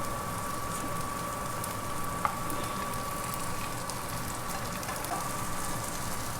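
Raw banana slices fry in a pan until crispy and golden, giving a steady, even sizzle and hiss throughout with no one talking.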